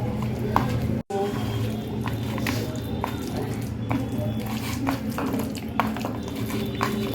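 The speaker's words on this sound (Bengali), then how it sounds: "এবার এটাকে মেখে নেব চিংড়ি মাছটাকে" Prawns being mixed by hand with mustard oil, salt and turmeric for steamed prawns, giving soft wet squishing and faint clinks of a bowl, steady and close, with a brief dropout near the start.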